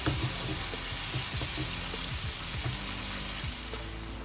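Tomato puree cooks in a pan while making dal makhani, giving a steady soft sizzle and bubbling with faint scattered pops and stirring clicks, constant and fairly close, with no talking.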